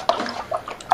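Water splashing into fermentation buckets for winemaking comes as short, uneven bursts of splashing and gurgling, close and fairly faint, lasting under a second.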